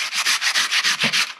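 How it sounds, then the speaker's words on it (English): Steady rhythmic wet scrubbing of a sanding pad against concrete, about eight even strokes in quick succession, close and loud. "Sanding your concrete should always be done wet."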